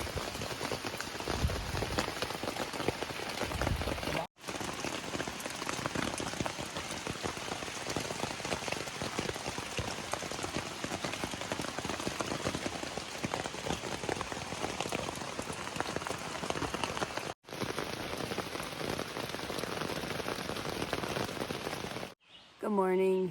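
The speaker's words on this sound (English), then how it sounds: "It's been raining ever since that last video clip that I filmed." Steady rain patters on a tent on the Appalachian Trail, a dense continuous hiss of drops close by, with brief cuts in the sound and a short moment of voice near the end.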